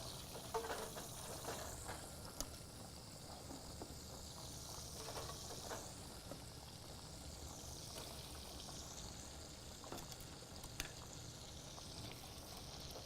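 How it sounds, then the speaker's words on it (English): Chicken frying in a pan, a soft continuous sizzle and crackle with occasional pops, steady and fairly quiet throughout. "That's the sound I love right there, that sizzling sound."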